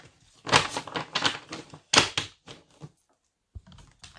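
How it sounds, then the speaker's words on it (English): Tarot and rune card decks being shuffled by hand, a run of crisp papery riffling bursts in quick succession with short pauses, then a softer shuffle near the end, close and fairly quiet with no talking. "I do shuffle all the decks before I use them anyway, but I just like to give them a shuffle in betweeny"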